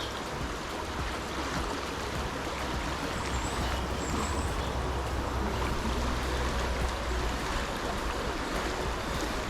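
Steady rushing river water flows continuously, a broad and even wash of noise with no break from start to finish.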